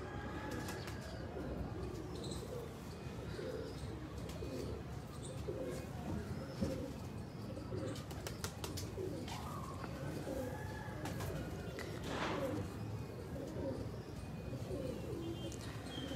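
Pigeons coo in a low, steady murmur throughout, with occasional bursts of wings flapping and faint chirps over a constant background hum.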